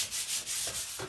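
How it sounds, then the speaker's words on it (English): A sanding pad brushes lightly over fresh, still-wet paint in a single pass, a quiet, soft rubbing swish in a few short strokes with no voices. "I wouldn't even call it a sanding because I'm really just brushing it with this pad."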